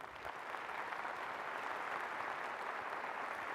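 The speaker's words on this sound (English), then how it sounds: "Please welcome me and giving Stan a round of applause for joining the Hall of Fame." Steady applause from a conference crowd for a Hall of Fame inductee, a dense wash of clapping that holds at an even level throughout, fairly distant.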